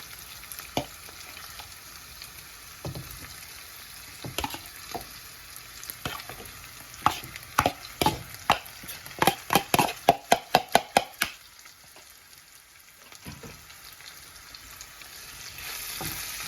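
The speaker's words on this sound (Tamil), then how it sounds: "சுறா வறுத்து கொண்டிருக்கிறேன்." Shark pieces fry in a pan, with a steady sizzle broken by a run of sharp knocks and scrapes from stirring, clustered in the middle and easing off toward the end.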